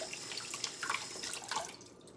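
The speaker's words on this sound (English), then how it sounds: "and I'll just rinse" A dish rinsed under a running kitchen tap, a close, steady splashing rush of water with small uneven spatters, fading out near the end.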